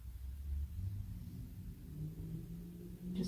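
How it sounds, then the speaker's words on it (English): A noisy car rumbles low in the background outside a heritage and nautical museum in Wallaroo, a steady muffled engine drone that is fairly faint and continuous, with no voices over it. "Just tag a noisy car in the background."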